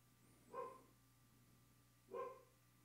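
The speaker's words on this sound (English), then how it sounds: "I knew he was about to bark." Two short dog barks, about a second and a half apart, moderately close against a quiet room with a faint steady hum.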